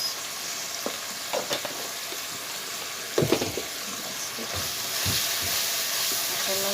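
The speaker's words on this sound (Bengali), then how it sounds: "মশলাগুলো কষাই নেব অনেক কিছুক্ষণ" Ground cumin and coriander powder fry in hot oil in a home kitchen, a steady sizzle broken by several scraping stirs and clinks of a spoon against the pan.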